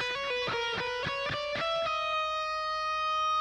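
A bright, distorted electric guitar plays a quick run of picked notes, then a sustained note that pulls off and slides down in pitch and rings out, from the first solo of a song.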